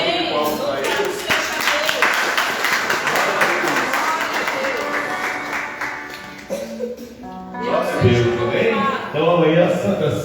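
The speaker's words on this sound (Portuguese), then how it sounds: "Vamos dar uma salva de palmas para eles." Congregation applauding at a church service, a dense wash of clapping from many hands that runs under a speaking voice and music, dipping briefly before swelling again.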